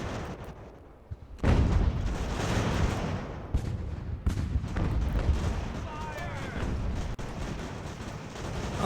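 Battlefield gunfire in Ultimate General: American Revolution, a sudden loud burst of booming artillery and musket volleys with rumbling aftermath and sporadic further shots, someone speaking over it.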